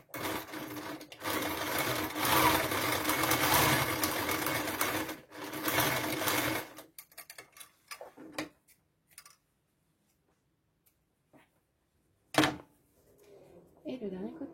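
A domestic sewing machine runs in a long steady burst of rapid stitching, stops, then makes a few short bursts and clicks, like stitching a seam with back-and-forth reinforcing stitches on a small pouch, with a voice talking briefly between runs.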